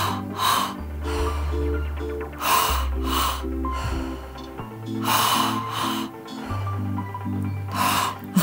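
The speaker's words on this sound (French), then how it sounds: "Laissez-vous absorber par votre souffle maintenant." Rhythmic breathwork breathing: sharp, forceful inhales and exhales repeat at a steady pace, close and prominent over a droning music bed with a pulsing low tone.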